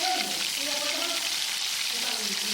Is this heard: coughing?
no